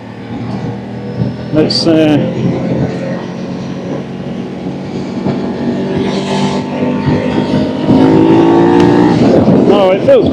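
A Ducati motorcycle, just repaired after being dead, accelerates as the throttle opens, its engine note climbing and rising again in strong, close sweeps while a rider talks over it.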